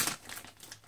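A plastic bag wrapped around a Rigol 1054z oscilloscope crinkles as the unit is handled. The noise comes as a close, brief burst of rustling and crackling that fades and then returns with a final crackle.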